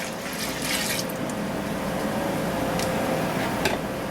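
Beet juice pours steadily into a container while pickled beets are made, a continuous liquid splashing and filling sound, fairly loud and close, with no talking.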